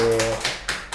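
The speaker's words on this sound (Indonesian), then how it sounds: "tepuk tangan dulu buat Pak Irawan" Scattered hand claps from a small group at the close of an Indonesian podcast interview, a few quick broadband slaps over a low background hum, near and fairly loud.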